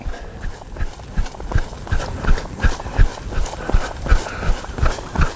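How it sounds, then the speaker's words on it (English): A ridden horse's hooves clip-clop in a steady, even rhythm across a large open area, close and clear with no talking over them. "Horse traveling reasonably straight."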